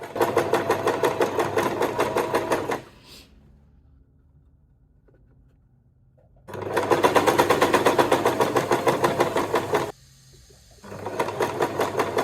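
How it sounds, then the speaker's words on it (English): An electric sewing machine stitching along a line on pleated fabric for a traditional-style handbag, running in loud rapid bursts of needle rattle, stopping for several seconds of near silence before starting up again, close by. "Using just as it is, I start stitching on the line."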